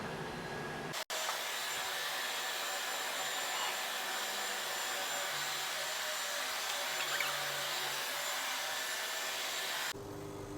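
A laser cutting machine cuts a blouse piece with a steady, airy whirring drone that starts just after a sharp click and runs evenly for about nine seconds before cutting off, with no talk.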